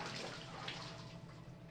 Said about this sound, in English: she slowly and meticulously waded her way to the edge of the spring